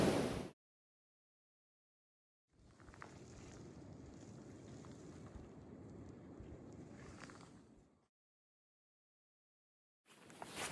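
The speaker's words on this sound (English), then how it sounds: "It is cold and windy on this side of the ridge." Cold wind sweeps across an Appalachian Trail mountain ridge in snowy weather, a steady rushing roar buffeting the microphone for several seconds before cutting off, with silent gaps on either side.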